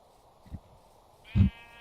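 A single sheep in the video game Minecraft lets out one short, clear bleat after a brief soft thump. It is heard alone against a quiet background.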